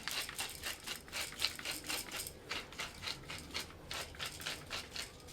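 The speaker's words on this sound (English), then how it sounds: "some more grinding of pepper" Pepper mill grinding pepper over asparagus, ham and brie bundles, a steady run of close, crisp ratcheting crunches in an even rhythm, with no one talking.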